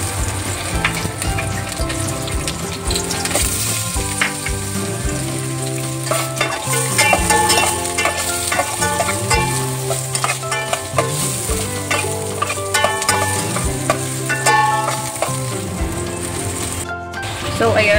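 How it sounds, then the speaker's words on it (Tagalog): Garlic and onion sizzle steadily in hot oil, with intermittent stirring and scraping clatter throughout. "igigisa ko lang yung bawang at sibuyas"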